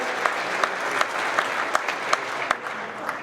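An audience applauding at a company employee-anniversary celebration for a trucking firm, steady dense clapping from a crowd in a room with a few sharper individual claps standing out, moderately loud and continuous.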